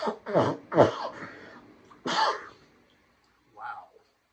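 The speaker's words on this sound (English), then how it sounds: "That was a sneeze." A few close, sharp bursts like sneezes or coughs, followed by a softer breathy sound after a pause.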